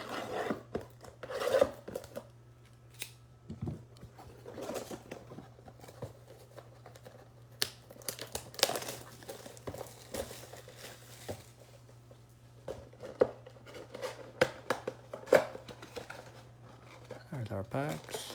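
A Playbook mega box of football cards is opened, with soft crinkling, tearing and rustling of packaging and cards over a low steady hum, with irregular bursts and louder snaps near the end.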